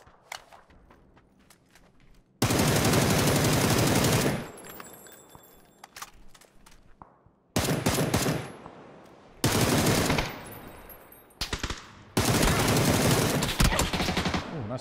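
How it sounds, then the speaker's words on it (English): Loud bursts of automatic gunfire in PUBG arrive in several long sustained volleys separated by quieter gaps with footsteps and small clinks, the shooting sounding close and harsh. "Ooh, nice shots."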